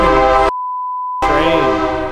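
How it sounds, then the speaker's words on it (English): A train horn blares close and loud in two long sustained blasts separated by a short pause, with a bright tonal sound and no talking. "Every time we start filming something, that horn from the train goes off."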